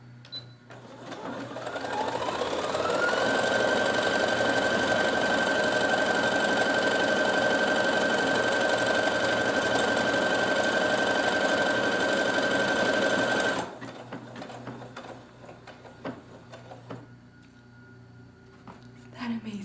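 A sewing machine whirs up after being started, running in a steady, close, high mechanical drone for about eleven seconds before stopping abruptly, leaving quiet room sound and faint voices.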